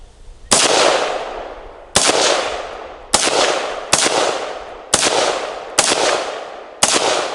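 AR-15 rifle fired outdoors, seven sharp, loud single shots spaced about a second apart, each cracking hard and then trailing off in a long echoing decay, with no talking.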